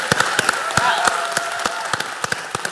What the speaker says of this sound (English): please clap if you believe synthetic media will do more good than harm